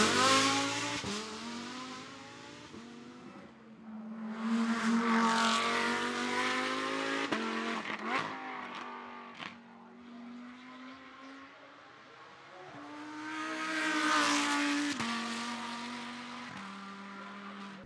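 A 2020 Ford GT MK2 race car runs hard at the Goodwood Festival of Speed, its engine note rising and falling through several gear changes with two loud surges of revving and no talk over it.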